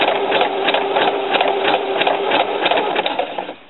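A sewing machine stitches fabric for a lettuce-leaf hem on shorts, running steadily and loudly up close with a fast even rhythmic chatter, then slowing to a stop at the end.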